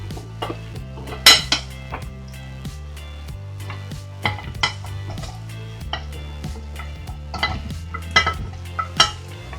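Browned chicken and sayote stirred in a pot for tinola, with close metal utensil clanks and scrapes against the pot in irregular bursts over a low steady hum.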